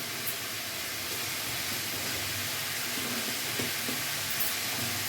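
Banana flower goes into hot spiced oil in a pan, setting off a steady, close, even sizzle of frying that fills the whole stretch, with a few faint soft bumps of stirring and no talk.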